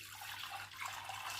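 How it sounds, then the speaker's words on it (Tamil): Water pours into a pot for semolina porridge as a short, steady rushing stream, close and fairly quiet, with no talking. "தேவையான அளவு தண்ணி ஊற்றிக்கோங்க"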